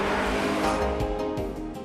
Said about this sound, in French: Moteur tournant lors des fortes reprises.